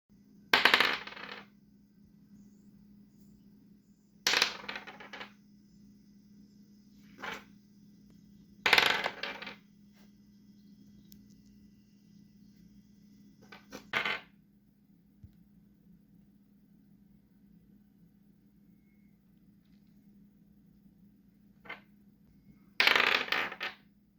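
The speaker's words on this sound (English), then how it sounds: "let me show you the footage now of me rolling the dice" Dice are rolled several times, producing sharp rattling clatters at irregular intervals, some louder and some fainter, with quiet stretches and a low hum in between.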